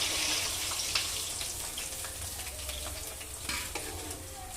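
Cut pieces of goat blood frying in hot oil in a home kitchen, a steady close hiss and crackle with occasional stirring scrapes, no voices.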